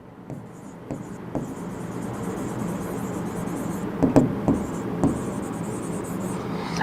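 Chalk or marker scratching on a board during a grammar lesson, several short scraping strokes with a few sharp taps near the middle, moderately close and fairly quiet, with faint room noise and no clear speech.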